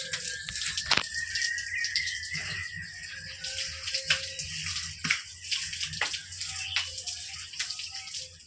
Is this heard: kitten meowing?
no